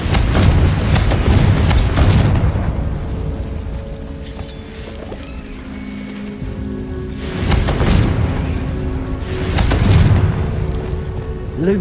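Confringo blasting spells go off in Hogwarts Legacy, loud booming bursts recurring at intervals with rumbling low-end tails and crackling debris over a continuous game ambience.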